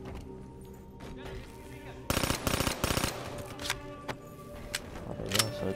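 Rapid bursts of automatic gunfire sound in the video game Black Ops III, three tight volleys close together followed by scattered single shots, with a voice talking underneath.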